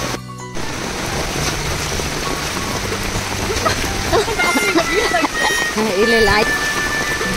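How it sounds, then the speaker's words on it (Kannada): Heavy rain pours steadily on a village farm during monsoon weather, a dense, constant hiss close by, while people talk briefly over it. "ನೋಡಿ ಎಷ್ಟು ಜೋರು ಮಳೆ ಬರ್ತಾ ಉಂಟು"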